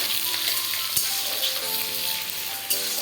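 Onions drop into hot oil already holding five-spice tempering and fry with a steady, close sizzle. A clink of the utensil sounds briefly at two points, and there is no talking.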